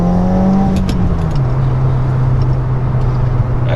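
A tuned Subaru WRX at Stage 2.5 pulls hard in second gear, heard from inside the car as a loud, steady engine drone that rises slightly and then holds for the whole stretch, with no talking.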